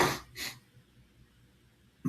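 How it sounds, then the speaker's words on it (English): A person coughs and sneezes while sick with a cold, two short bursts close together at the start and another at the end, with quiet room tone between. "Apologize for all the sniffling and sneezing and coughing."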